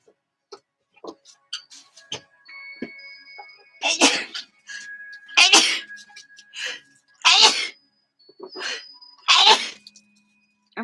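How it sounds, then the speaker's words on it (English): Several loud sneezes in a row, spaced a second or two apart, with soft clicking and rustling in between. "weed, it makes me sneeze"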